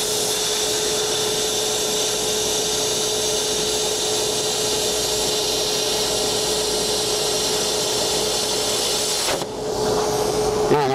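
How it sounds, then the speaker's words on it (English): A Hypertherm Powermax30 XP plasma cutter slices quarter-inch steel at a construction trade show, giving a loud, steady hissing roar with a constant whine for about nine seconds before the arc stops. "We're gonna do some quarter inch aluminum. And then we're gonna do some 5/8 carbon steel"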